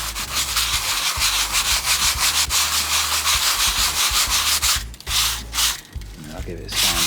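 180 grit sandpaper rubs rhythmically back and forth over a wooden coffee table top, working into the gaps with loud, close, repeated strokes that briefly pause near the end, with no talking.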